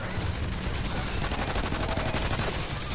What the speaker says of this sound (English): I'm gonna start shooting some scorps